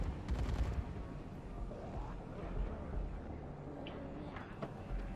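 Gunfire in the zombie video game Dead Rising 3: a burst of sharp shots at the start, then scattered cracks over a dense, rumbling game soundscape with faint voices in the background.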